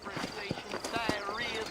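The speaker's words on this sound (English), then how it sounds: "You ain't gonna find sturdier horses than these in all of New Austin." Horses clip-clopping on a trail in the video game Red Dead Redemption, a quick series of hoof knocks close by with faint background game ambience.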